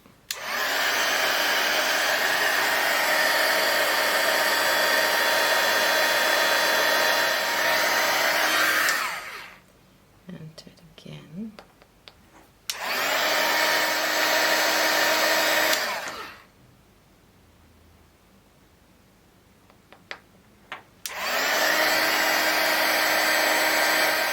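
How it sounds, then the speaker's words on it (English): A hair dryer blow-drying ink-dipped enamel dots runs in three long steady roaring bursts, loud and close, separated by quiet gaps with faint handling noises. "And then blow dry it."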